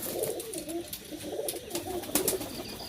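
Soft pet pigeon coos repeat in low, rolling phrases, close by, from nesting birds with eggs and chicks, over a rustling, noisy background.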